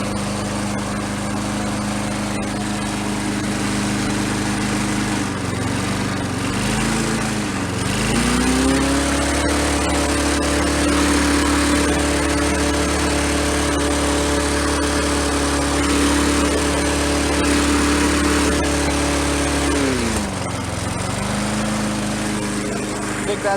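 A 1984 Briggs and Stratton push mower engine runs flat out under a stress test, roaring loud and close with a steady droning whine that dips and climbs in pitch twice before settling back to full speed.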